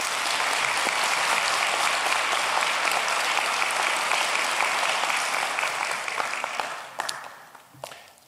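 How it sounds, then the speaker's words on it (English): Audience applause for two student award winners at a 2023 commencement ceremony, loud and sustained for about seven seconds before thinning into a few scattered claps and fading out. "Let's give these two winners a round of applause."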